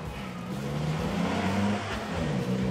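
An army off-road vehicle in a children's cartoon gives a steady, close engine hum with a low, even drone and no talk over it.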